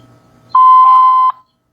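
A voicemail beep sounds after the greeting message: one loud, steady electronic tone of about three-quarters of a second, standing alone before a short silence.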